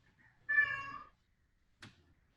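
A cat gives a single clear, close meow, followed by a short soft chirp-like sound, in an otherwise quiet room.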